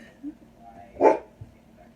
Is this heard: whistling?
no